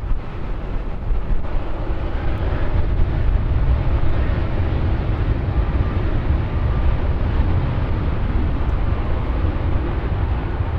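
A jet takes off from runway 9 at San Diego, heard as a continuous loud, broad engine roar with wind rumble and no talk.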